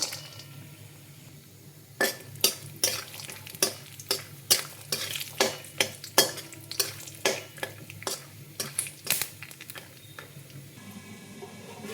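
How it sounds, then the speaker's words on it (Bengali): Cashews and peanuts fry in a pan and are stirred, bringing a steady sizzle and a quick run of sharp scraping knocks from the utensil against the pan, close up with no talking. "এ পাশে আমি কাজু আর চিনেবাদামটা ভেজে নিই।"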